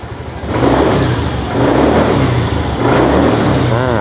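A 2020 Honda Scoopy i scooter engine revs up in repeated throttle twists, rising and holding near and loud with a steady mechanical drone, a short dip between bursts.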